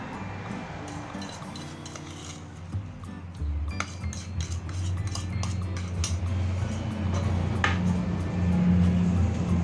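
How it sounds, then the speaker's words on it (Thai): A spoon stirs salt into clean water to dissolve it for pickling santol, giving repeated clinks and scrapes against the container, close and fairly loud over steady background noise. "ใส่เกลือลงไป 3ช้อนโต๊ะค่ะ คนให้ละลายค่ะ"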